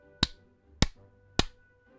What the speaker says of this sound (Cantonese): 我哋俾3下掌聲佢啊